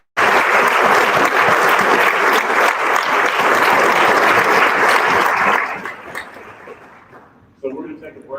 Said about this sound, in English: let's give Mr. Ham a warm round of applause